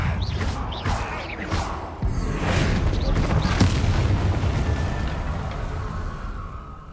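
An explosion in Hogwarts Legacy as a target turned into an explosive barrel goes off, heavy booming bursts followed by sustained rumbling, with a person talking over it.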